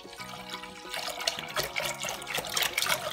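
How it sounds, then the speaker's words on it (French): Apple juice pours steadily into a saucepan, a continuous splashing gush that grows a little louder toward the end. "On vide tout dans la casserole."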